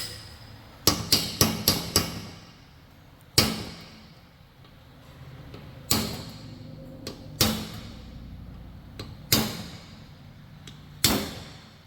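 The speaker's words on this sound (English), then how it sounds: "What I do is I take a chisel and I go on the end of the seal, edge of the seal." Steel chisel struck by a hammer against the edge of a differential seal on a Ford 8.8 rear axle, with sharp metallic blows: a quick burst of four, then single strikes spaced a second or two apart, each ringing briefly.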